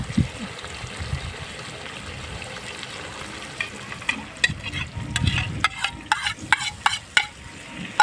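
Onion paste and yogurt sizzle in a pan for Bangladeshi prawn bhuna, a steady frying hiss under repeated scraping stirs that grow sharper and more clattering toward the end.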